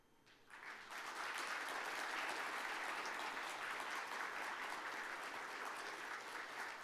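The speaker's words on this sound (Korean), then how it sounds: "계속해서 큰 박수로 축하해 주시기 바랍니다." An award ceremony audience at the 2022 Samsung Ho-Am Prize applauds a poet: a brief quiet start, then a full, sustained wash of many hands clapping evenly to the end.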